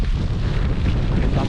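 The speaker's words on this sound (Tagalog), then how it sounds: "Ang panahon po ngayon dito ay hindi maganda, mahangin po, may kasamang ulan." Steady, loud wind rushes across a rice field in rainy, blustery weather, buffeting the microphone with continuous low rumble and no pauses.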